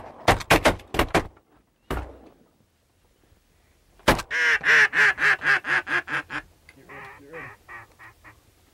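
Mallard ducks quack during a duck hunt: a rapid run of loud, evenly spaced quacks, with a few sharp, close percussive bursts before them and softer quacks trailing off at the end.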